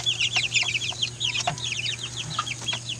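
A flock of 45-day-old chickens peep and cluck continuously in a busy chorus of short, high calls, fairly quiet over a low steady hum.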